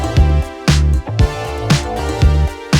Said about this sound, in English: these are just synths that cover different frequencies